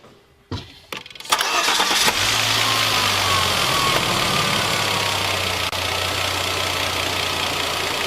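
A 2012 Volvo XC60 T6 R-Design fitted with a cone intake filter cranks briefly and fires up, then settles into a loud, steady idle with a deep rumble close by.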